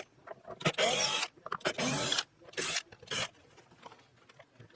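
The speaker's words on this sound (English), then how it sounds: "I'm going to use my drill" A power drill whirs in several short bursts, each a few seconds or less, with brief pauses between them, turning the truss rod of a 1980s Japanese Fender Telecaster.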